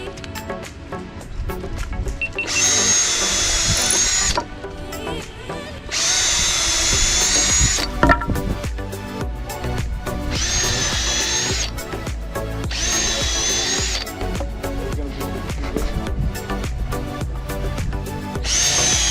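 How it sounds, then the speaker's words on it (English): A power drill re-drills screw holes in wooden end pieces for a Corvette-shaped car lift bunk bed, with loud whining bursts that start and stop several times over a workshop background. "Re-drilling the screw holes in the end pieces."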